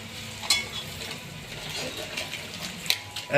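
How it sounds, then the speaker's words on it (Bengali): Spatula scraping and stirring spices in a frying pan of mutton curry with potatoes, with a soft sizzle and a few sharp metallic clacks against the pan, close and moderately loud. "খুন্তি নাড়ছে মশলা দিচ্ছে"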